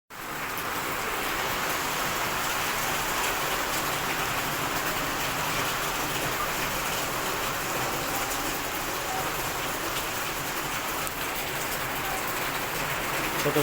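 Heavy rain pours down during a midday storm in Gazipur, a dense, steady hiss of drops hitting surfaces that stays loud and unbroken throughout.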